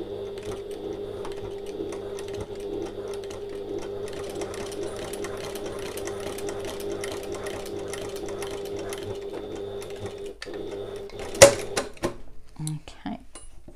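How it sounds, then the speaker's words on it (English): A sewing machine runs steadily for about eleven seconds, stitching a strap into place on an oval bag, then stops with a few sharp clicks and handling knocks at the end. "Now I'm going to stitch my strap into place."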